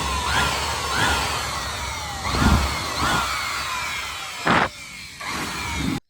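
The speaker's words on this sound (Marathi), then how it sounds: "तर मित्रांनो आपण ग्राइंडर ते घेतलंय" A grinder blade cutting through a speaker box: a loud, continuous abrasive whine that swells in several rough bursts as the blade bites into the material, close by and with no talk.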